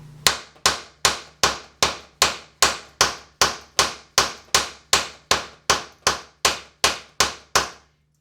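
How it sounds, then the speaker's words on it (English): Knife blade whacking repeatedly into dry soft pine wood, about twenty sharp, evenly spaced chopping impacts in steady rhythm, close and loud with no talking. "I'm going to give it 20 good whacks into some soft pine, but it's relatively dry"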